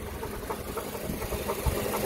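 An Acura RSX engine idles roughly after the air conditioning kicks on, a low, uneven rumble with a faint pulsing throb and vibration, steady and close, with no one speaking.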